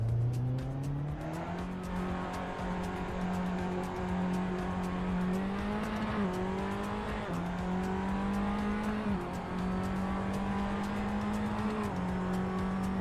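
Race car engine in Assetto Corsa droning close and loud, revs climbing and dropping through repeated gear shifts, with faint tyre noise under a constant engine tone for the whole stretch.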